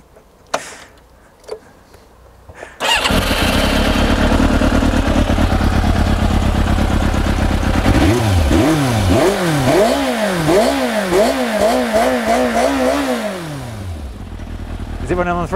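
Budget motorcycle engine cranks over and catches, then runs steadily and loud, its rough idle rising and falling in repeated revs before settling slightly.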